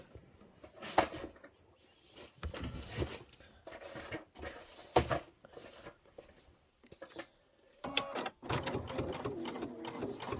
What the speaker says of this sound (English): So I'm going to go ahead and sew.